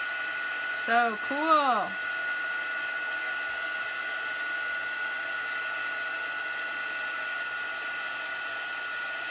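A heat embossing tool blows hot air onto a watercolor piece, a steady close whooshing hiss that runs unbroken for the whole stretch, with a brief spoken exclamation near the start.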